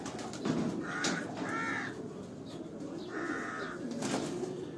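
On a Karachi rooftop, pigeons give several short, soft coos in separate bursts against a faint, constant background murmur, with no speech.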